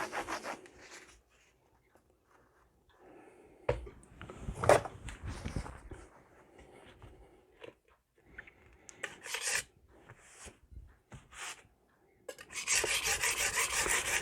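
An 8-inch Magnacut chef's knife rasps across a Norton Crystolon fine stone in quiet, intermittent strokes, with short pauses between passes and a louder burst of scraping near the end.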